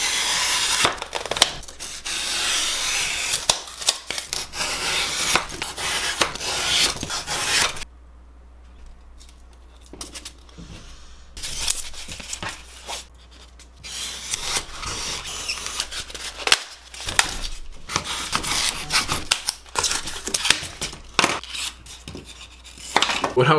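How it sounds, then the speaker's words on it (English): A craft blade cuts cave pieces from a sheet, with loud, close rasping and scraping strokes in uneven bursts, a brief quieter pause partway through, and no talking. "I'm going to cut out a few of these pieces and just kind of stick them together."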